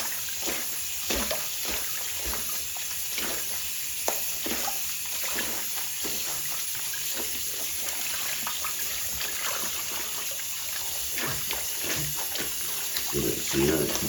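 Cold tap water trickles and splashes steadily as gloves are rinsed and a basin fills, with a person speaking over the continuous flow.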